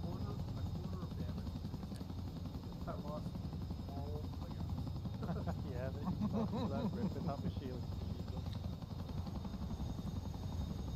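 A CH-47F Chinook helicopter in the DCS flight simulator game, its tandem rotors producing a continuous low thudding drone throughout, with someone talking over it.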